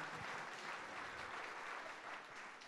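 A church congregation applauding during a French-language Sunday service, a dense, steady wash of many hands clapping together, sustained throughout at moderate loudness with no clear individual claps.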